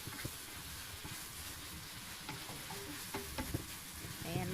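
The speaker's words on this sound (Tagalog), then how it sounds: "syempre haluin natin para mag-absorb ang lasa" Chicken and onions being stirred in a cooking pot for tinola, giving a soft sizzle with scattered scrapes and clinks of the spoon, fairly quiet and close, with no talking.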